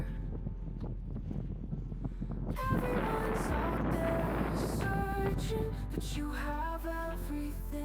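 Strong wind on Pilsko mountain, at 1557 m, roars and buffets the microphone in a dense, continuous rush, followed by tonal ringing sounds over a lingering low rumble.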